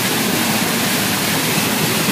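A waterfall pours onto slippery rocks, its steady broadband roar close and loud, constant throughout with no voices.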